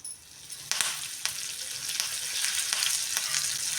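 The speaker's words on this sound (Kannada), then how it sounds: "ಒಂದು ಕಡ್ಡಿ ನಾನು ಕರಿಬೇವು ಸೊಪ್ಪು ಹಾಕ್ತಾಯಿದ್ದೀನಿ" Mustard seeds and curry leaves sizzle and spatter in hot oil for a chutney tempering, a loud continuous hiss broken by several sharp popping bursts.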